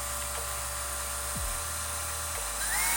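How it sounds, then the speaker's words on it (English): A small power drill whines steadily while boring a hole into the back of a TPU antenna mount, its motor pitch dipping briefly as the bit bites, close and continuous with no talking. "So I'm drilling a hole for it at the back of the TPU antenna mount"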